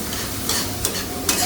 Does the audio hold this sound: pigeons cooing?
no